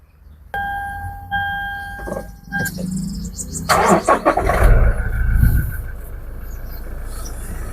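A Toyota Fortuner SUV with manual transmission cranks and catches, revving briefly before settling into a steady idle, preceded by a few electronic chimes.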